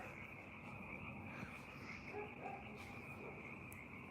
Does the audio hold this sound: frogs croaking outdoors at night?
yes